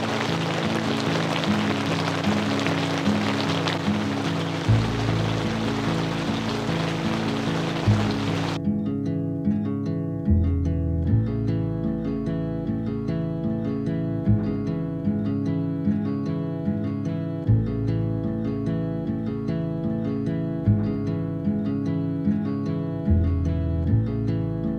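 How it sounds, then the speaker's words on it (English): Heavy rain pours onto a dome tent at a lakeside campground in Laguna, Philippines: a dense, steady roar for the first eight seconds, after which it abruptly gives way to steady tonal music. "it just started pouring rain. It's pouring like crazy right now"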